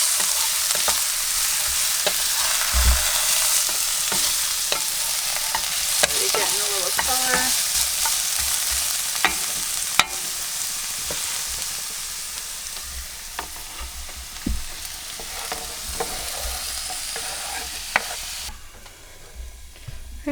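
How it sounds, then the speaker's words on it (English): Bell peppers for chicken fajitas sizzle steadily in a hot pan while being stirred, with scraping and clinking of the utensil through about twenty seconds, the frying continuous and close, no talking. "So we are ready to put the pepper in. I'm just going to mix this around."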